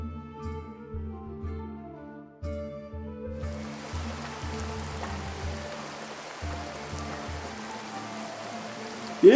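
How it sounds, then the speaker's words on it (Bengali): Rain in an animated Bengali story on a monsoon day begins about a third of the way in after soft tonal music, then falls as a steady, dense hiss of drops on surfaces until the end. "এ কি বৃষ্টি শুরু হলো বলো তো গিন্নি, থামারই নাম নেই।"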